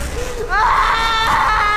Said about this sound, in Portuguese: Então, um grito alto ecoou através da escuridão. Era um gemido de dor e de medo.